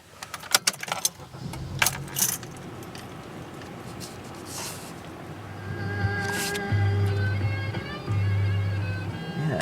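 Keys jangle in the ignition of a 2013 Honda Accord, followed by the engine starting and settling into a low, steady idle hum, with no talking.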